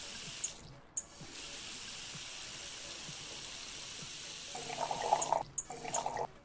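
Water runs from a tap into a pot in the Cooking Simulator game, a steady close hiss of pouring that continues for several seconds, ending with a brief splashier burst and clatter, no talk.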